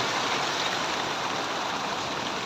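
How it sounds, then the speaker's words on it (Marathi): Rain falls in a steady, even hiss that holds constant throughout, with no voices or other distinct sounds. "चांगलंच मस्त पाऊस आलेला खूप छान वाटतं पाऊस पडला की"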